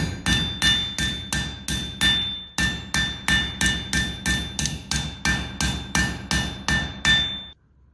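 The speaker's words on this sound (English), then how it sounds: "You generally don't forge much at a low heat like this, but right now I'm just cleaning up the surface" A blacksmith hammers hot metal at a low heat to clean up the surface, a steady run of about twenty loud, close, ringing blows in even rhythm with a brief pause near the middle, ending abruptly.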